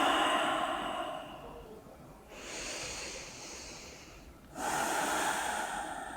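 Slow, deep breathing during a yoga pose, with three long breath sounds: a steady exhale, a softer breath in, then another full airy exhale, close and quiet with no talking.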